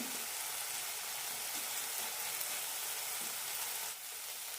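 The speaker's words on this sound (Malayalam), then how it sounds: "ഇതേപോലെ തന്നെ നന്നായി വഴറ്റിയെടുക്കാം" Potato pieces stir-fried in a pan on low flame for a Kerala-style potato fry, with a steady close sizzle and faint scraping stirs throughout, easing slightly near the end.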